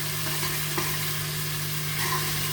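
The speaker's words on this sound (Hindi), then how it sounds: "फ्राई करती हूँ।" Turnip and spinach frying in a pan make a steady, moderate sizzle with a low constant hum underneath and a few light stirring clicks.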